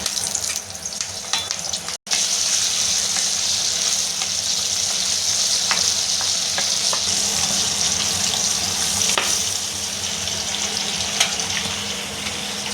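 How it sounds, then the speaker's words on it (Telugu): Chillies fry in hot oil for an Andhra gongura pickle, giving a dense, continuous sizzle with scattered crackles and pops, close and steady throughout, with no voices. "మిర్చి ఆయిల్లో వేసి వేసుకోవాలి"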